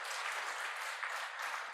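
A church congregation claps steadily to welcome a family during a Sunday worship service, a dense, even patter of many hands that stays fairly soft and continuous throughout the short burst.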